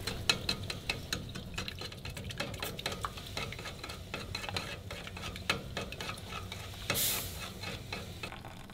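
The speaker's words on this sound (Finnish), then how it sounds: "silläpä se hirvenliha rupesikin kärisemään" Elk meat sizzles in a pan on a gas stove at a snow camp on a winter ski trip, a steady faint crackle with scattered pops and the scrape of stirring.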